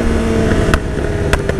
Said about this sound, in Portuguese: Olha o jeito que o escape estoura